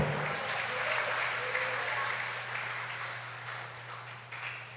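Worshippers at a church service applaud to glorify the Lord, a broad, steady wash of clapping from a large crowd that holds level and eases slightly toward the end, over a low sustained hum.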